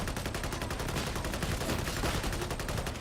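Rapid, sustained automatic gunfire from a magazine being emptied in the video game Darktide, a dense, loud, evenly spaced stream of shots that runs without a break.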